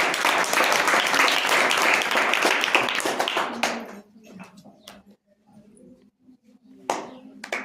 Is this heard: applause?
yes